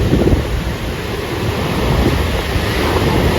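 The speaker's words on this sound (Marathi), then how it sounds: "लाटाच येतात ना जबरदस्त लाटा येतात" Strong ocean waves crash and roar in a steady, loud wash of monsoon surf on a beach, with wind buffeting the microphone and no voices.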